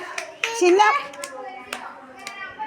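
A child claps hands during a Malayalam vowel-letter learning game at home. A few sharp, separate claps are scattered across the moment, close by, while a child and an adult talk.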